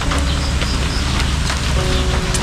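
Heavy rain pours steadily in a dense, continuous hiss with scattered drop impacts, loud and unbroken throughout.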